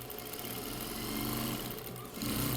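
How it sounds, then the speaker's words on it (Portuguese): A sewing machine runs continuously, stitching the bias binding along the edge of a patchwork rug, a steady close mechanical whir with a rapid needle rhythm that briefly dips near the end. "Aí eu venho com uma segunda costura pro lado de fora aqui"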